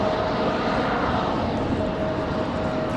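Aircraft departing Raleigh-Durham airport produces a continuous loud engine roar with a faint steady whine, holding even for a few seconds.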